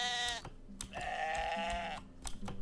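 A poked sheep in a video game bleats loudly, with two or three drawn-out wavering bleats close up and no talk over them.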